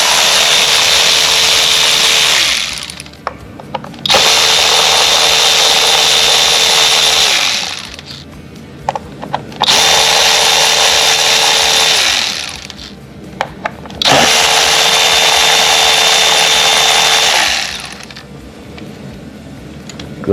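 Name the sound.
power tool with socket removing 8 mm bolts on 2010–2014 Ford Fusion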